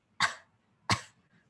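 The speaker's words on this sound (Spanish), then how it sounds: "Esa tos es mucho más efectiva." Two short, deliberate coughs a little under a second apart, shown as a voice-training example of coughing without clearing the throat; close and fairly soft, with quiet room between them.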